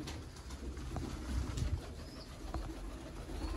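Red-eyed breeder pigeons coo on a rooftop in a Pakistani village, a low, steady murmur of soft cooing over a constant background hum, with no talking.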